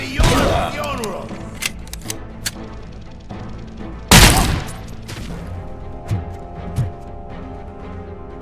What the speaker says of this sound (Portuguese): Explodiu.